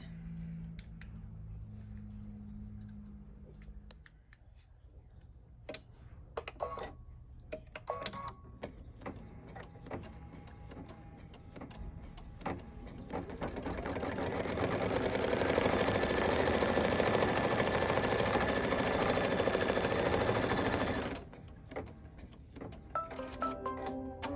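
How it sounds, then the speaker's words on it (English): A Baby Lock Solaris embroidery machine stitches an appliqué monogram and outline, its steady mechanical whir rising louder through the middle stretch before cutting back, with scattered clicks and no talking. "So it's finished stitching our first 2 colors, which was my monogram and the outline around the monogram"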